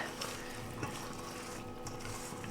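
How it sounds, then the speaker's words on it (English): A utensil stirs roasted cherry tomato sauce with onion and red pepper in a pan. It gives a continuous soft scraping, with a faint sizzle throughout and no voices. "now we're gonna go ahead and just stir all that up"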